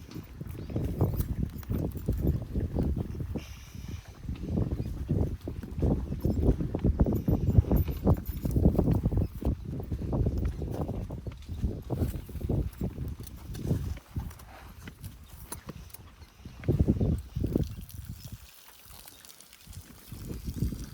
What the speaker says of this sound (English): that noise is from clearly the horse.